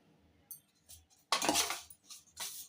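A spoon clinks and scrapes in a bowl as grated coconut is mixed into ragi puttu flour, with a few sharp taps followed by longer, louder scraping strokes close by.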